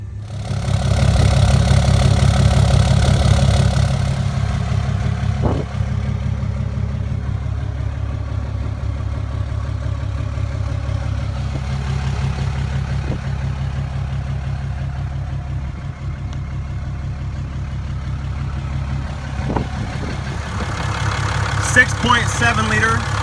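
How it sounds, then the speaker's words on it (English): Low steady rumble of a 2017 Ram 2500 Tradesman 4x4 with a 6.7-liter Cummins turbo diesel and 5-inch exhaust idling nearby, a continuous drone with occasional clicks, a short louder burst near the start. ".7-liter Cummins turbo diesel, stock airbox, but you do have a 5-inch exhaust."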